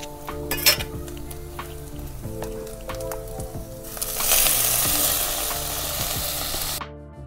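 Ranbhaji wild greens frying in a pan with peanuts and green chillies, close clinking and scraping of a spatula against the pan over a sizzle that swells louder midway, then cuts off abruptly.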